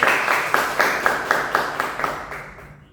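Classroom of students gives a short round of applause, roughly rhythmic group claps in bursts that gradually fade out, fairly close and alone without talk.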